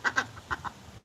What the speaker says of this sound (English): these are regular Peking ducks